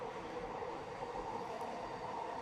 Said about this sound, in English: This train is going to be the death of me.